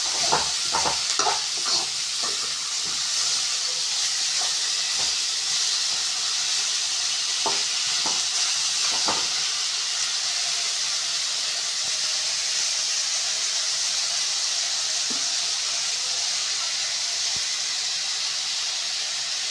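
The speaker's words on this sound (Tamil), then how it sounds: "இப்போ கட் பண்ணி வச்சுருந்த தக்காளி போட்டுட்டு இது மாதிரி நல்லா வதக்கிக்கலாம்." Chopped tomatoes for tomato chutney sauté in a hot pan, giving a steady, loud sizzling hiss throughout, with a few clattering stirring scrapes near the start and occasionally later, and no talking.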